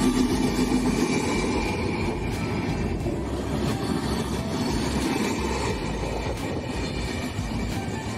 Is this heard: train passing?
yes